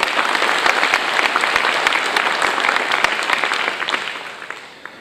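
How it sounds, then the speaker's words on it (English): An audience at a county government address claps in a sustained round of applause honoring sanitation workers, dense and even before thinning and fading out near the end. "Please, another round of applause for them as well."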